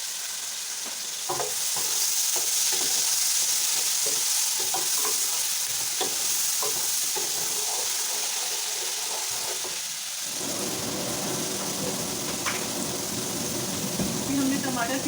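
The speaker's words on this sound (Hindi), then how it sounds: "अब हम लहसुन अदरक का पेस्ट डालते हैं" Garlic ginger paste sizzles in hot oil in a home kitchen while being stirred, with steady frying crackle and scraping strokes; the sizzle swells broader and louder about two-thirds of the way through.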